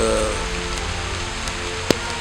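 Steady rain falling outdoors during a boxing training session, a constant hiss of drops with one sharp tap near the end, alone with no talk.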